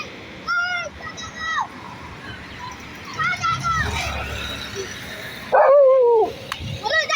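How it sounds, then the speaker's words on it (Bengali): A dog barks in short, separated bursts outdoors while a child teases it, with people chatting and children's voices around it. "এই হচ্ছে কুকুর"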